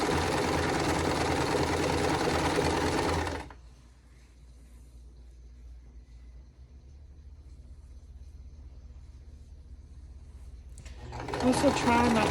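A sewing machine stitches a quilt block in a short loud burst, falls silent with only faint room hum for several seconds, then starts running again near the end.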